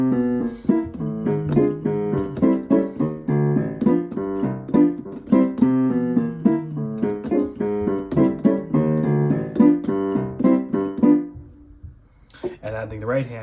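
Stride-style piano left hand playing a chord progression with rhythmic displacement: bouncing bass notes and chords in a steady swung pulse, close and clear, ending in a brief pause and a few final notes.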